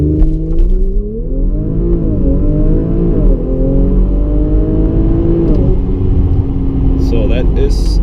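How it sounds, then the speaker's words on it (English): An Audi RS5 launches from a standstill in sport handling mode using launch control, its engine revving hard and climbing through rising pitch sweeps with gear shifts, loud and close inside the cabin, with a voice speaking over it. "go to sport handling mode, go to a standstill and use the launch control"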